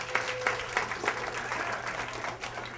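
Comedy-club audience applause, mixed with scattered claps and crowd murmur, holds fairly steady before thinning slightly toward the end.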